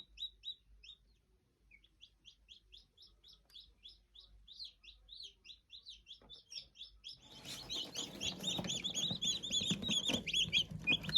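Newly hatched Marans chicks peeping in an incubator, a run of thin repeated high peeps that starts faint and sparse, then turns louder and denser with several chicks chirping together near the end.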